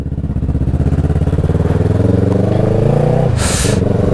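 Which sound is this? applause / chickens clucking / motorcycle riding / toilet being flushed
motorcycle riding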